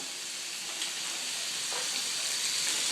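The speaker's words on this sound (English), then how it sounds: "while you're searing the pork tenderloin, you're going to make sure that you get a good sear on it" Pork tenderloin sears in a hot pan, a steady loud sizzle and hiss running the whole time with slight swells in intensity.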